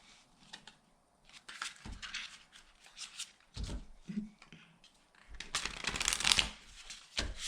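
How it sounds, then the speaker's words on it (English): A deck of tarot cards is shuffled by hand close up, soft riffling and slapping bursts coming in irregular clusters with quiet pauses between, fairly faint overall. "One more shuffle and we'll start clarifying."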